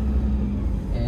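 Toyota Innova 2KD diesel engine accelerating as the driver adds throttle in first gear, a steady low rumble heard from inside the car, continuous and fairly loud.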